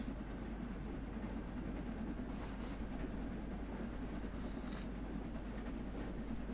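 Steam locomotive running on the Edinburgh to Glasgow line in Train Sim World 3, building toward 50 mph: a steady rumbling roll with rail clatter and faint hissing, continuous and fairly quiet, no talking.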